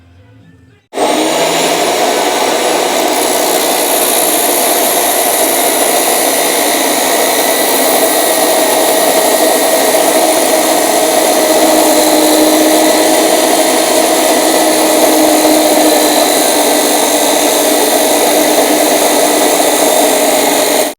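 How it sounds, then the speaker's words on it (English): A power tool cuts through the PTO driveshaft of a Yamaha Terra Pro mower, a steady loud whining grind that holds continuously for about twenty seconds after a brief quiet start, with no talking. "First thing we're gonna have to do is get that shaft cut."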